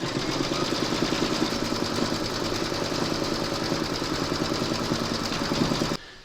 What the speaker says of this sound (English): you're going to stitch round number 3, which is going to secure the fabric and then quilt over the top